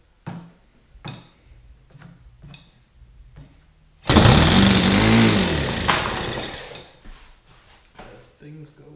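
A Saito FG-30B four-stroke model engine being broken in bursts into a loud, buzzing run at half throttle for about two seconds, then drops away, with quiet clicks and handling noises around it.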